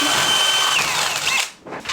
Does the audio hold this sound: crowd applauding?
no